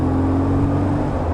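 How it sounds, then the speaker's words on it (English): A BMW R1150R boxer-twin motorcycle engine, running under a bridge, gives a low, steady hum with a slight rise in revs, brief and fairly close. "we'll give it a little bit of a rev"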